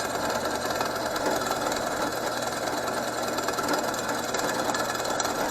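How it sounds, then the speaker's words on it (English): A milling machine cuts the right-side engine mount for a BMW engine, a steady, loud machining whir and grinding chatter that runs without pause and with no talk. "we're started machining the opposite side engine mount now"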